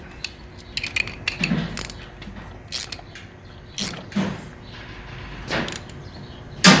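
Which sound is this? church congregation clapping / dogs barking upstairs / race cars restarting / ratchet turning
ratchet turning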